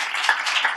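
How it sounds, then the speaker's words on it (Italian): Brief burst of applause from a conference audience, dense steady clapping heard alone for under a second. "a cui voglio tributare un applauso"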